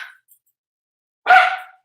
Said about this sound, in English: Lisa's dog heard Luke and is now barking back at him.